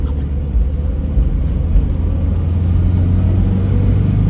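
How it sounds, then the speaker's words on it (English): A 1984 Datsun 720 King Cab 4x4 truck with a slight exhaust leak driving at night, its engine a steady low rumble with a faint raspy edge, close and continuous with no talk. "there's just a tiniest exhaust leak. You can hear it a little bit."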